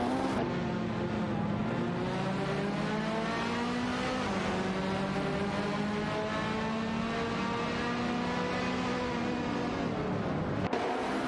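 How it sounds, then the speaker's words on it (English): Racing cars in a racing video game scream away at full throttle, a loud sustained engine whine with rising harmonics that holds steady throughout, then cuts off abruptly near the end. "Racing car dashing away."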